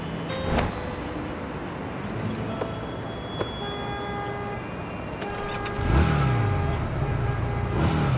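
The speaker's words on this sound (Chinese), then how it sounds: "你还会骑摩托？" A motorcycle engine starts and revs on a street, a low steady background that builds into a louder, rising rev near the end, with no talking.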